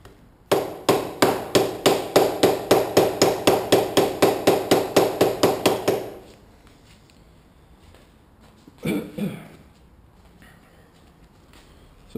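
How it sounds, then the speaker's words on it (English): A plastic or rubber hammer taps a race into place on a Honda VT750C: a quick regular series of about twenty sharp knocks, then silence with a couple of faint clatters. "Plastic hammer or rubber one."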